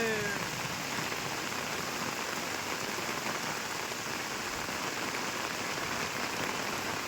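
A steady downpour of heavy rain drums on surfaces around a village field and home, an unbroken close wash of noise that never lets up, with no clear speech.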